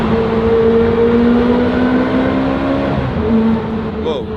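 A Ferrari V8 engine revs and accelerates loudly, its tone rising steadily, then easing off near the end with a brief faint beep.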